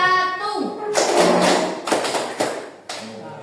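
Sharp hand claps ring out in a classroom clapping game, several quick bursts of claps in succession following a teacher's talk, with children's voices around them.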